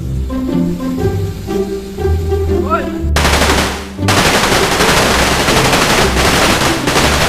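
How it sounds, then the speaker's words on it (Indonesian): Firecrackers exploding in rapid, dense crackling bursts, loud and close, starting sharply partway through and continuing almost without pause after a brief dip. "petasan cenah"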